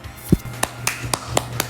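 Several sharp hand claps, roughly evenly spaced and fairly close, with a louder low thump near the start, over a quiet background.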